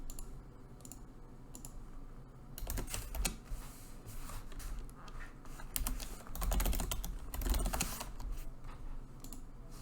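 Fingers type HTML code into a text editor on a computer keyboard, with quick, uneven clusters of clicking keystrokes close up. The bursts come in rapid runs separated by short pauses, all over a low background hum.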